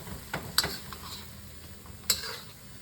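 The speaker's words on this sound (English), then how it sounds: "then you add the garlic and stir that around" Pork and garlic stir-frying in a wok: a steady low sizzle with a few sharp metallic scrapes and clinks of a utensil against the pan, no talking.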